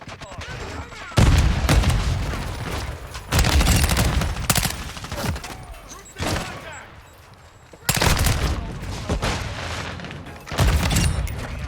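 Video game gunfire in several loud bursts of rapid shots, each lasting one to two seconds and separated by quieter stretches with a steady background din.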